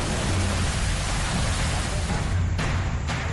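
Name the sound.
heavy rain in Uttarakhand floods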